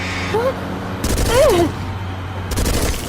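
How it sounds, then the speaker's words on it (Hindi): Rapid bursts of gunfire from an action movie scene crack out in loud clusters, with dramatic tonal effects and voices mixed in behind the shots. "उन पर गोली चलाओ।"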